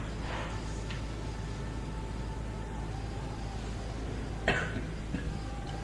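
Audience members cough during a talk in a hall in Dhulia, with a sharp cough burst standing out late over steady room murmur and low rumble, and a few fainter coughs earlier.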